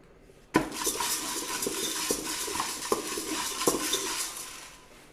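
Dry green gram is stirred in a pan, giving a steady close rustle of grains with sharper spoon knocks against the metal. It starts abruptly and fades at the end.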